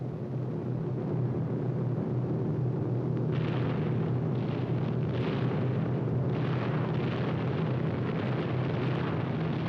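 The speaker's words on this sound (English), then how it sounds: "They lay their bombs on the highway junction." Bomb blasts from a 1944 air raid by 9th Air Force Marauder bombers on a highway junction near Caen, France: a continuous heavy rumble with repeated muffled bursts, loud and sustained, no voices.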